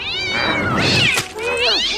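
A cat meowing in the film How the Grinch Stole Christmas (2000), a couple of loud, drawn-out, wavering meows close up filling the whole moment.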